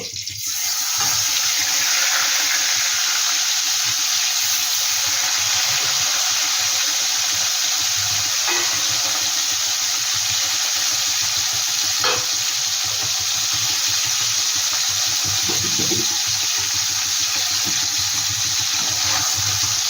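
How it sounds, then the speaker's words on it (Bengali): Koi fish (climbing perch) fry in hot oil in a pan for a Bengali tel koi dish, giving a loud, unbroken sizzle that holds steady throughout, with a few faint clinks and no talking. "বাকি দুটো আমি একইভাবে ভেজে নেব।"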